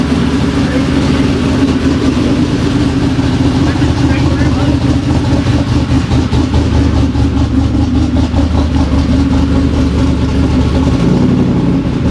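A twin-turbo Ford F-150 with a brand new header idles steadily and close by, a deep low rumble that holds even throughout, with people talking over it.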